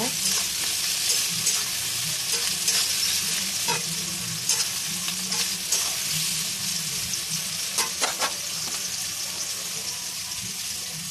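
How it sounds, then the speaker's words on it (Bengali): Salted onions frying to a light golden colour in a pan, a loud continuous sizzle with scattered scraping stirs and clicks throughout. "পেঁয়াজটা একটু হালকা লাল করে ভেজে নেবো"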